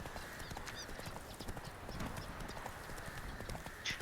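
Hooves of Roach the horse clop in a steady gait through The Witcher 3, a quiet, even rhythm of light footfalls with a brief whinny-like cue near the end.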